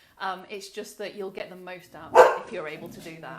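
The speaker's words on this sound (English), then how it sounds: "please excuse my puppy dog in the background having a bark." A pet puppy barks in the background of an indoor talk, a few short yips rising mid-clip beneath a steady speaking voice that continues throughout.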